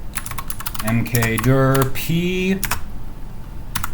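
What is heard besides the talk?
typing command on computer keyboard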